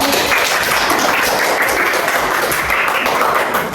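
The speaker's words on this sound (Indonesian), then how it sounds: "Tepuk tangan buat kelompok 1" Classroom applause for a student group in an Indonesian elementary English lesson, loud close clapping from many children held at an even level throughout with no pause.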